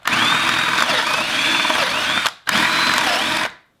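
A power drill runs steadily for about two seconds, stops briefly, then whirs again for another second, close and loud.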